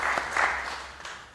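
Audience applause at the Western Cape 2024 budget speech, a brief burst of clapping from a crowd in a hall that fades off quickly.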